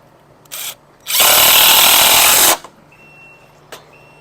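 A power drill drives a screw through a wooden deck railing: a brief whir, then one steady loud high-pitched spin for about a second and a half, followed by a short tap and quiet.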